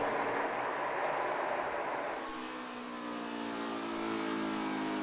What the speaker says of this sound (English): Truex and Busch, teammates fighting it out just ahead of them.